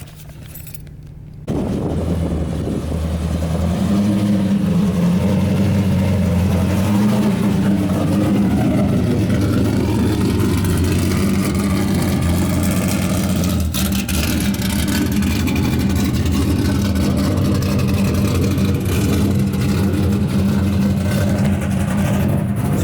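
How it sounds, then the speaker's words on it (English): A loud race car engine starts up after a brief quiet and keeps running at a rough, steady idle with occasional revs, close by, with no talking. "that's Savannah's race car"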